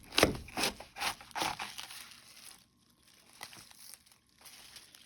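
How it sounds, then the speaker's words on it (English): A napa cabbage is cut in half for kimchi with a series of crisp crunches and crackling leaf snaps, loud and close at first and then softer, with a quiet stretch near the end. "you cut the cabbage in half, just like this"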